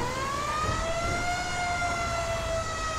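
A large fire engine's siren wails in GTA 5 as the truck arrives, a loud, close, sustained tone gliding slowly in pitch over a low engine rumble.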